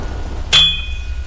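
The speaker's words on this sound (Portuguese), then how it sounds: "Assim que ouvi o som de um trovão, jurei ter escutado um ruído metálico vindo do exterior," A single sharp metallic clang rings out once and decays with a bright lingering ring, alone against a quiet background, heard on a stormy night outdoors.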